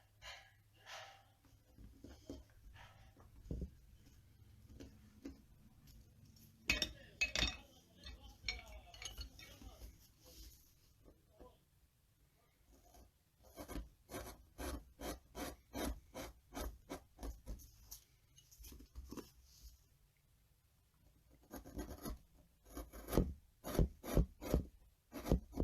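A knife carves a wooden dragon in quiet, soft scraping and shaving strokes that come in clustered bursts of sharp cuts, close and faint, with some breathing between passes.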